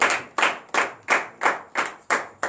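A congregation claps together in a steady rhythm at a morning prayer service, seven or eight sharp, loud claps at an even pace with no voices.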